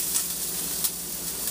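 Green onion and garlic sautéing in a pan, a brief close hiss of sizzling with a couple of faint clicks, steady and fairly loud, no voices.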